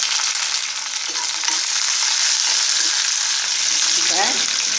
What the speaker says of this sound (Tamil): ஆனியன் போட்டுக்கணும்.